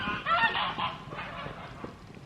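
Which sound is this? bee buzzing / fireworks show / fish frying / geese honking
geese honking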